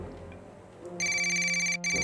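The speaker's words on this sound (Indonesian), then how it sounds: "Kok suaranya kayak bukan telepon? Model baru. Telepon gue, Blak." A quiet murmur gives way to a loud electronic mobile ringtone, a bright repeating melody that breaks briefly and resumes.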